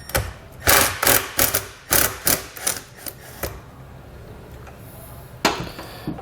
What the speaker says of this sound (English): we can grab a 13mm socket, and we're going to remove the nut that's on the battery post.